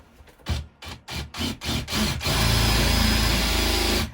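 A drill bores a 16mm bearing hole through wood for a woodturned hand sander: several short, close bursts of grinding contact, then a steady, loud, continuous cutting whir.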